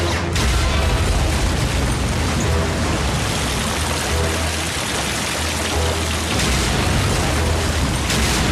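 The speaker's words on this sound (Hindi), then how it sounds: "कितना बड़ा धमाका था।" A massive cartoon explosion booms, a loud sustained blast of roaring noise with deep rumbling low end that swells and churns for several seconds.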